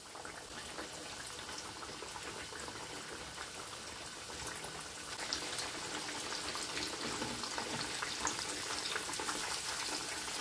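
Stuffed pork loin rolls frying in a pan give a steady, dense sizzle and crackle that grows a little louder and busier halfway through, with no voices.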